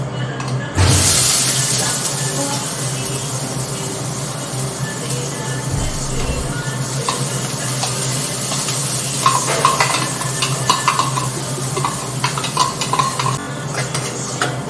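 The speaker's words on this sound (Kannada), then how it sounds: "ಕಾಯ್ದಿದೆ ಗೈಸ್ ಆಲ್ರೆಡಿ ಎಣ್ಣೆ. ಇವಾಗ ಈರುಳ್ಳಿ ಹಾಕೊಳ್ಳೋಣ, ಅನಿಯನ್." Onions tipped into hot oil for Gobi Manchurian, giving a sudden loud sizzle that settles into steady frying hiss, with occasional clinks and scrapes of stirring in the pan.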